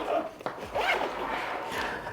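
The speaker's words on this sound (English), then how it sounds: "And then we'll just zip this back up." A zipper on a Lone Wolf tech backpack is pulled closed in a few quick rasping strokes, close and fairly loud, with no talking.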